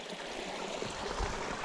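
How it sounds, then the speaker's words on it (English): Water runs beneath wooden boardwalk planks on the Overland Track in Tasmania, a steady, even rushing wash that holds at the same level throughout with no voices. "All that water running there"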